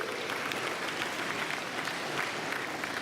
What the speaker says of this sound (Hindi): वापस तालियां बजाइए